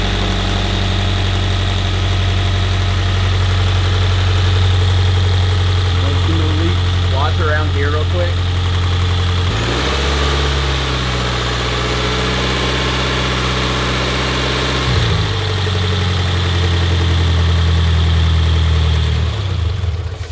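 A Subaru BRZ engine idles after an oil change with a steady low rumble, rising to a couple of brief revs, while a person speaks briefly nearby.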